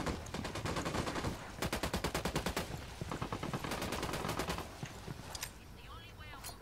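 Heavy cartel gunfire in a Ghost Recon Wildlands firefight, with rapid automatic bursts and single shots rattling loudly in dense overlapping volleys, briefly easing near the end while voices call out underneath.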